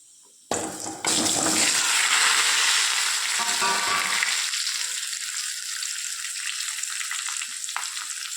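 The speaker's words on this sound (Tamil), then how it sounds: "எண்ணெய் ஊற்றிருக்கிறேன், கடுகு போட்டுக்கலாம். கடுகு போட்டேங்க. இந்த கிழங்க போட்டுக்கலாம்." Mustard seeds and tuber chunks hit hot oil with a sudden loud sizzle that stays dense and steady, easing slightly as the frying settles, with no talking.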